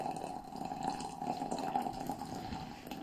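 Water is poured steadily into a vessel while preparing tea at home, a continuous trickling and splashing stream at close range with no talk.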